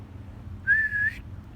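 A single distant whistle carries through debris-strewn woods with fallen, crisscrossing logs, a short rising-then-level tone lasting about half a second over a low, steady background rumble, no voices.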